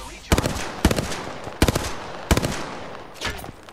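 Gunfire in Apex Legends comes as four rapid, loud bursts of close shots spaced about a second apart, followed by a softer, more distant burst.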